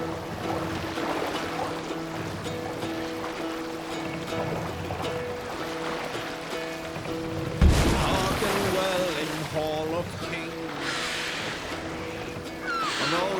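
A Viking longboat is rowed across open water in Assassin's Creed Valhalla, with sloshing water, creaking wood and oar splashes heard under voices and music, plus a loud splash partway through.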